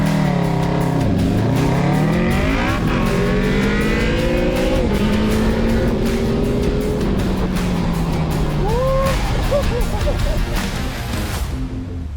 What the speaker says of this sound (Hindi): आप लोगों ने इस गाड़ी की और इस बाइक की ड्रैग रेस देखी